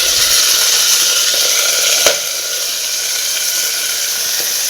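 Fenugreek leaves frying in a pan for methi matar pulao give a steady, bright hiss of sizzling oil, with one sharp clink partway through before the sizzle settles slightly quieter.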